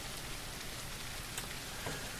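Steady rain hisses in a video game level under construction, a dense even wash of falling drops with no gaps or talk.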